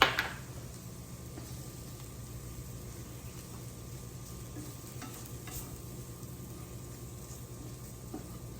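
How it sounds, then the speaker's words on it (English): Flour cooking in a pan as a spoon stirs it, a steady close sizzle with a faint scraping hum that starts with a brief knock, no talking. "Just keep stirring it really well."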